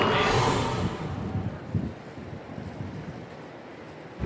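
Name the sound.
wind blowing at harbour swim start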